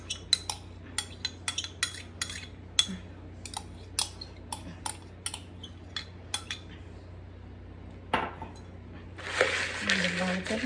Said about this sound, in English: we're gonna mix in our yogurt